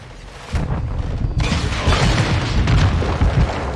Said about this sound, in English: I just threw a mine over there and got 6 kills.